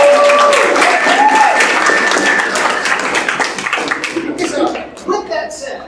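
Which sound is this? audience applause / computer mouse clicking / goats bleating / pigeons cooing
audience applause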